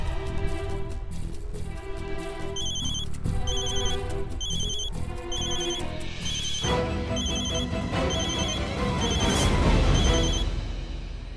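A phone line rings after a number is dialed in a slum-settlement scene from a Hindi comedy, the repeated ring tones pulsing steadily over background music and room noise, moderately loud.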